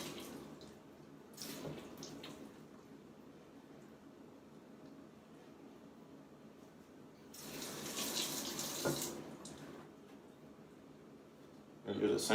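Tap water gushes into a sink while fish, red snapper, are rinsed by hand, with a short burst of running water early on and a louder, longer stream a few seconds later, then a brief clatter at the end.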